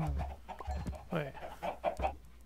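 Chickens in Minecraft, several short close clucks in quick succession, one after another, with no talk over them.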